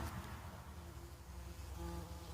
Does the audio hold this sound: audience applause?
no